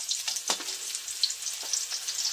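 Tuna simmering in coconut milk in a pan gives a soft, steady sizzle and bubbling, with a few faint stirring scrapes.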